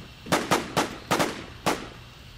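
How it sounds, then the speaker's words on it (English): Gunfire in the video game Dead Z: five or six sharp shots in an irregular burst, some paired close together, fairly loud against a quiet background. "I'm being fired at."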